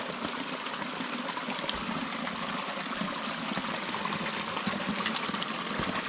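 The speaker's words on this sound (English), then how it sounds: "There's a neat little water crossing we just came up to." Water flows steadily over rocks at a hiking trail crossing, where it seems to emerge from beneath a boulder and runs down into a swamp, with a close, continuous babbling and trickling.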